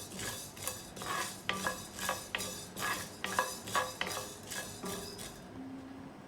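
Ingredients dry-roasting one by one in a pan without oil over a medium flame while being stirred, making rhythmic scraping and clinking strokes over a steady crackling hiss; no talking.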